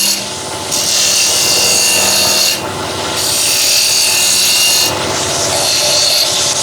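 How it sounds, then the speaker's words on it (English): A ball gouge truing a wooden workpiece on a lathe, giving a steady close scraping rasp in long sustained passes with short lulls between cuts. "So I'll just use my ball gouge,"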